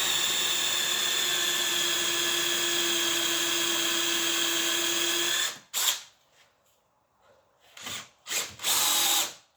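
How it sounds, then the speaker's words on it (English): A power drill bores a hole for a half-inch dowel at a controlled speed, giving a loud, steady whine for about five seconds before it stops, followed by a few short bursts of the drill. "Same thing here, start to drill."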